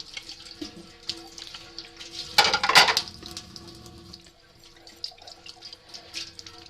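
Tap water runs and splashes into a sink while plates are washed underneath it, with a louder gushing burst in the middle and light clinks of dishes close by.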